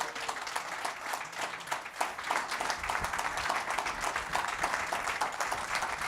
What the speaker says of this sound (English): Everyone give it a round of applause for Michael Havens.